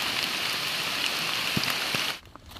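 Steady rain falling outdoors in a forest during a white termite mushroom foraging trip, a dense, even hiss of drops that cuts off abruptly near the end, leaving a quieter patter.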